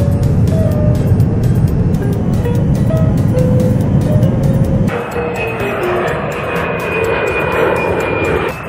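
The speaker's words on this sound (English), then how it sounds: "Jumbo jet." A jumbo jet roars loudly and continuously, its engines whining with shifting high tones, the sound changing character midway as if the view cuts to another moment of flight.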